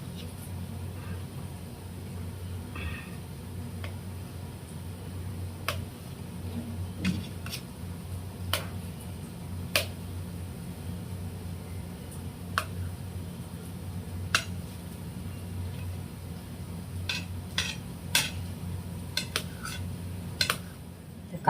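A knife slices boiled eggs on a board, producing sparse sharp taps spread irregularly through the clip, with clusters near the end, over a low steady hum while onion fries.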